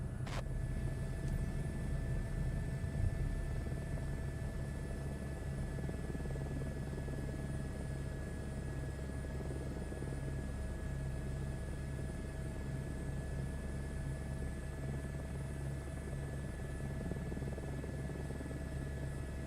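Airliner engines during landing in the Microsoft Flight Simulator 2024 game, a steady droning rumble with a constant high whine, even and unbroken throughout, no speech.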